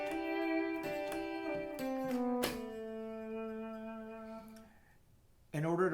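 Pedal steel guitar playing a song intro in G, with sustained, sliding chordal notes using pedals and a knee lever, ringing and fading, alone until a voice begins at the end.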